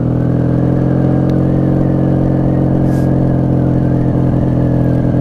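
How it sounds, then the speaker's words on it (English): 1995 Honda Magna V45 VF750C custom, chain-drive third-generation V4 cruiser, droning steadily at speed on a night ride, a loud constant engine hum with wind noise and no pauses. "This is a chain drive 3rd gen Honda Magna"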